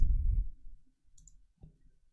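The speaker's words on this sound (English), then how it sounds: "Just mash my keyboard and look for that." Computer keyboard keys mashed at random: a dull burst of low thumping keystrokes, then a few scattered, softer clicks, close and alone with no speech.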